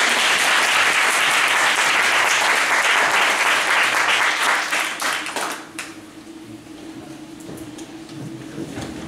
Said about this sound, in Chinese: 我们请掌声欢迎中强律师。